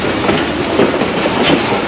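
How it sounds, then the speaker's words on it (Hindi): Shah Latif Express train passing close by near Kotri Junction, a steady loud rumble with rhythmic clickety-clack of wheels on rail joints throughout two seconds, no voices. "कोटरी जंक्शन से अभी चले और 8222 के साथ 152 डाउन शाह लतीफ एक्सप्रेस से आमना सामना हुआ है।"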